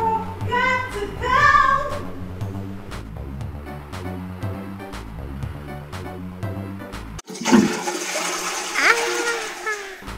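Upbeat game music plays, then a toilet flushes with a loud, rushing burst of water that swirls on for the last few seconds.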